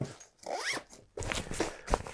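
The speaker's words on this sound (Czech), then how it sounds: "Na straně dále od těla je ještě síťovaná kapsa, uzavíraná zipem" Zipper on the mesh pocket of a Pentagon Kyler 20 military backpack, a few quick close zips in short rising strokes, quiet and alone without talk.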